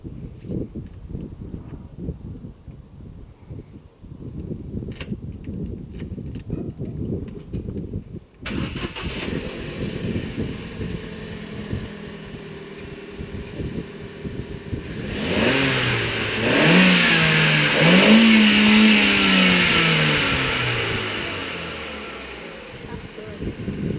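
A Vauxhall Corsa engine cranks and fires up after its spark plugs are changed, settles into a steady idle, then revs up loudly in a couple of rising and falling bursts before dropping back, heard close with some talking.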